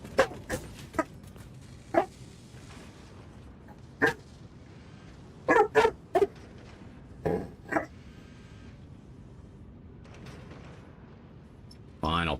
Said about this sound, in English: Well, you go bark at somebody else.